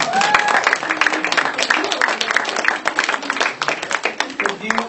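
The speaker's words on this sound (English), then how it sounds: "Let's give them a round of applause." Audience applause at a gathering, dense clapping from a crowd filling the room steadily for several seconds, with a voice or two audible underneath.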